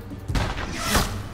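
Video game gunfire: two or three heavy, booming shots close together, loud and near, with a muffled rumble between them.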